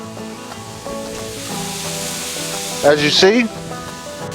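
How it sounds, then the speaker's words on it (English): Sausage pieces sizzle steadily on a hot griddle, a constant frying hiss under music, with a louder burst of spattering near the end and a brief spoken phrase. "We're going to go ahead and start putting on our sausage first."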